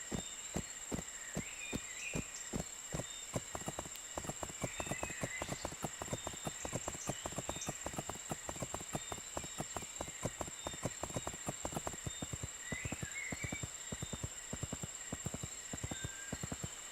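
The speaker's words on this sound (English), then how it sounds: "then use it once more to move into the fastest gallop" A horse in the riding game My Little Riding Champion gallops at full speed, its hooves pounding in a quick, steady, even rhythm throughout, with a faint high background tone and no voices.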